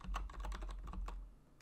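Rapid, irregular keystrokes on a computer keyboard while HTML code is entered, close and fairly loud, with no talking.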